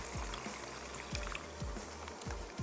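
Water goes into a tomato paste curry being cooked in a kitchen as the base for makhni vegetables, a steady liquid hiss with several soft low thumps repeating over the continuous pour, no voices.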